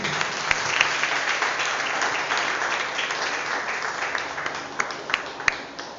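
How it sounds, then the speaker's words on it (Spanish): A church congregation gives a steady round of applause during a morning service, a dense wash of clapping at moderate level lasting several seconds, with a few sharper individual claps standing out near the end. "Denle un fuerte aplauso a Dios."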